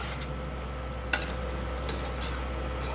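Pepper chicken is stirred in a kadai over a low, constant sizzle, with a few spaced scrapes and one sharp clank from the ladle, close by and fairly quiet.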